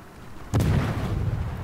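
A single deep, booming salvo of warship artillery fires in the World of Warships naval battle game, a sharp onset followed by a rumbling low tail over steady background noise.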